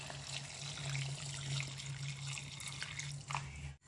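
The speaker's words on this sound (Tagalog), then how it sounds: "Lalagyan na natin ng mainit na tubig para madaling kumulo." Hot water pours steadily into a pot of sinigang with a continuous splashing, trickling flow that runs the whole time at moderate level, with no talk over it.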